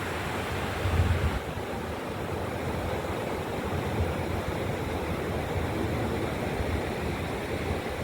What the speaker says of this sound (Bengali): ঢেউগুলো দেখুন কি সুন্দর লাগছে।